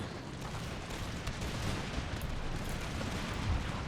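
Musket volleys and artillery in an Empire: Total War battle form a low, steady roar of distant gunfire, with faint scattered reports rising over a continuous rumble.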